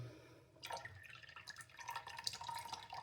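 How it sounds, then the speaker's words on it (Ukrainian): Final drops of water falling from a reverse osmosis filter into a container, a sparse irregular patter of small drips that thickens slightly toward the end, close by and fairly quiet with no talk. "Останні краплі."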